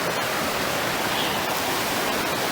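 Waterfall at Talybont in Wales, a constant, even rush of falling water heard close by as a smooth broadband roar, with no voices.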